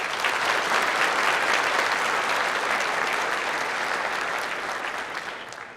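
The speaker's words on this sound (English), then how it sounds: "Let's all give them a round of applause." Steady, dense audience applause at a school academies designation ceremony, a continuous roar of many hands clapping that holds strong and then slowly tapers near the end.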